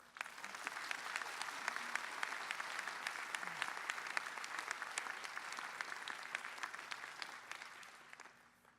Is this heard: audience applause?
yes